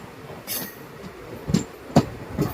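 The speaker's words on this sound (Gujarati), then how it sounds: "ટ્રેન ધીમી પડી ગઈ છે" A passenger train rumbles and clatters with rhythmic wheel thumps and faint squeals on the rails, the clicks spaced out as it slows into Surendranagar Junction in Gujarat.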